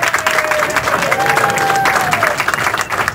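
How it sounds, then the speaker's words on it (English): Audience applause with some cheering from a crowd at a bowling tournament, steady and dense throughout, with a tonal line sweeping across the middle. "And they're applauding Cindy Sissom too."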